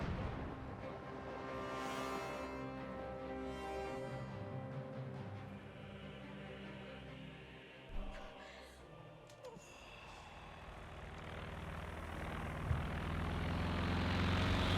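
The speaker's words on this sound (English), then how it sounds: "Aircraft out on the field looks like just smoke drop / recon." Propeller aircraft drones steadily overhead in a Company of Heroes 2 match, a recon or smoke-drop plane, its engine hum sustained throughout with a couple of brief thumps and battle noise mixed underneath.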